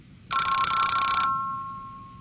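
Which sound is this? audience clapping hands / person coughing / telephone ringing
telephone ringing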